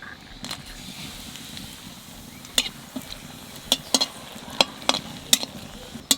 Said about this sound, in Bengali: তেলের উপর দিয়ে দেবো হিং আর শুকনো লঙ্কা